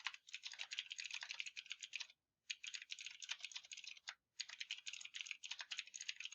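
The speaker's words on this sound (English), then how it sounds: "I'm just going to type something." Fingers type on a computer keyboard in three quick, dense bursts of clicks, separated by brief silent pauses. The typing is close and clear, with no voices.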